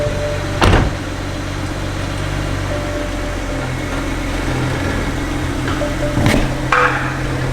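BMW with a transmission problem out on a test drive: steady engine and road hum from inside the car, with a couple of brief clunks and knocks near the start and toward the end.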